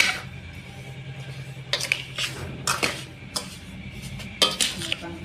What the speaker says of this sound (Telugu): బాగా కలుపుకుంటూ ఉంటాను